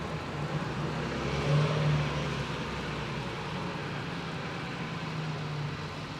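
A city bus rolls along Yonge Street in downtown Toronto during a 3 AM snowstorm, a broad, steady engine and tyre roar that swells briefly as it passes, with no talk.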